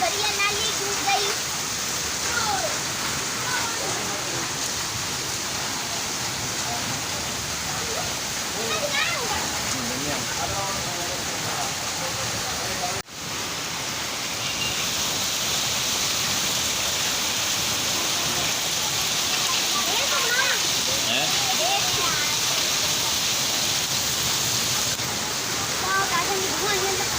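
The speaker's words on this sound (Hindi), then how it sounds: "मीरपुर खास में धुआंधार बहुत तेज़ बारिश हो रही है" Heavy rain pours down in Mirpurkhas, Sindh, a dense, continuous hiss of water on surfaces with flooded drains, loud and unbroken throughout apart from one brief dropout.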